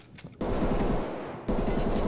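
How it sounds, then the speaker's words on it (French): Sustained automatic gunfire in Escape from Tarkov in the Factory map, loud close bursts starting after a brief quiet moment and continuing without pause, with a sharp fresh burst near the end. "Mais il y a des mecs qui me tirent dessus"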